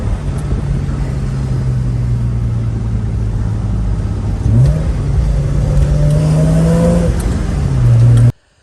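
Porsche Boxster engine droning steadily at low pitch, then blipping sharply as the driver downshifts, revs rising and falling in quick surges near the end; close, loud and continuous with no talk.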